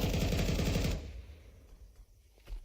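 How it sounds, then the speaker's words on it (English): Rapid automatic SMG fire from Counter-Strike 2 rattles loud and close for about a second, then cuts off, leaving quiet game ambience with faint clicks. "SMG battle between him and QB."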